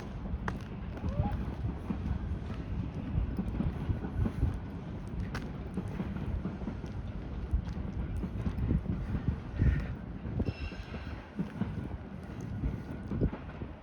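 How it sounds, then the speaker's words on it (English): A commuter train heading toward Royal York rumbles past at a distance beside Tom Riley Park, low continuous rolling noise with some wind buffeting, rising and falling gently over the whole stretch. "here comes another train going the other direction towards Royal York"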